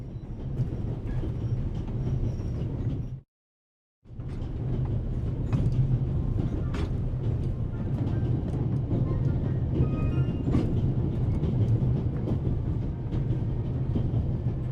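Passenger train travelling in The Raven Remastered video game, a steady loud rumble of rolling railcars with faint rattles, broken by a brief moment of silence.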